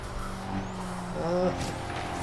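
An Alpha race car from Forza Horizon 3 revs through a rallycross circuit, its engine droning steadily with rising and falling pitch and a brief higher whine, under someone talking.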